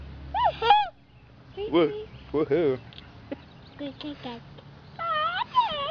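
A young child imitates a bird call with several short, swooping, hoot-like cries, close to the microphone, mixed with adult speech between the calls.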